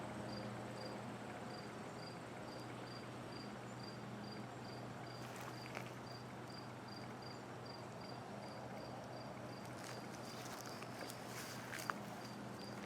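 A dense, steady outdoor chorus of insects and bees buzzing and chirping along a valley trail in Fredericton, New Brunswick, Canada, with a high repeating pulse running throughout and no voices.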